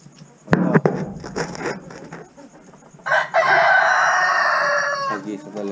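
Backyard chickens in a growing pen: a rooster crows loudly for about two and a half seconds after earlier clucks and scattered knocks, with a faint voice in the background.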